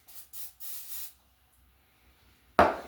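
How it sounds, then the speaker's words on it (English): Cooking spray from an aerosol can misted onto a small baking scoop in a home kitchen: three short, close hissing bursts in quick succession, then quiet before a sharp clatter near the end. "I'm going to try to spray this little scoop I got here so my batter might not stick."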